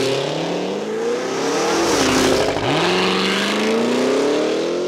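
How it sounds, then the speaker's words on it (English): A 2023 Cadillac Escalade-V, a three-ton SUV, launches hard with launch control, its loud engine roar climbing steeply in pitch through a gear change and continuing to rise, close and dominant with no talk. "It's hard to imagine something this big rocketing up to speed with such control and no drama, except when it comes to sound."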